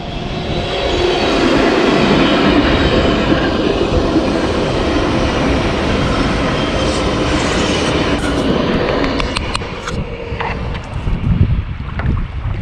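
A train rumbles past close by on the tracks, a sustained loud roar with rhythmic clattering that fades toward the end.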